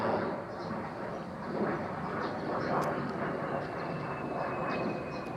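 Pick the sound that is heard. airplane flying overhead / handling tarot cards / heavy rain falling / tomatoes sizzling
airplane flying overhead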